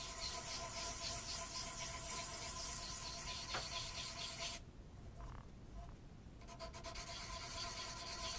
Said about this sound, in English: A little more sanding to get it completely done.